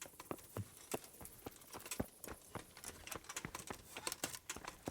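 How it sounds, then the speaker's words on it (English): Horse hooves clip-clop in a steady walking rhythm in the medieval video game Kingdom Come: Deliverance, each footfall a crisp knock, fairly close and quiet, with no talking. "Probably should have mounted my horse."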